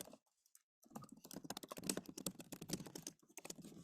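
Typing on a computer keyboard, a quick irregular run of close, crisp key clicks after a brief silence, with no talking over it.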